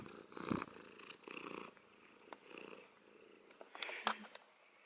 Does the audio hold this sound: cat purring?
yes